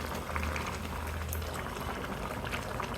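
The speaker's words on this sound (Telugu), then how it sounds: "వేడి నీళ్ళు కాసి పెట్టుకుని వేడి నీళ్ళు" Hot water poured into a boiling pot of spicy country chicken pulusu on high heat, giving a continuous bubbling, hissing simmer with pouring liquid throughout, close and moderately loud, with no speech.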